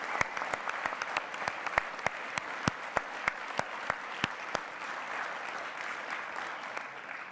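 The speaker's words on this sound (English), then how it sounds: "Give him another round of applause." Audience applause for a New Horizons mission team member at a mission update event, steady clapping with sharp individual claps standing out, fading slightly toward the end.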